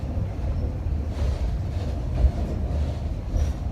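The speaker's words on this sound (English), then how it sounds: "I'm sure you can experience some of that right now as we're taking this train ride." Rumbling Edaville park train ride at night, a steady low rolling roar of the rail cars with faint clicks and one sharp knock near the middle, continuous and fairly loud, with no talking.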